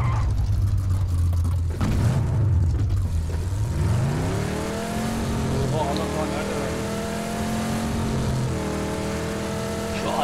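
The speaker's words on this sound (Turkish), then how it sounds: "Şu arabanın sesi de var ya, adamın böyle beynini kemiriyor." A car engine in PUBG drives and revs, a droning tone that dips and then climbs steadily in pitch as it accelerates, under intermittent voices chatting over the game.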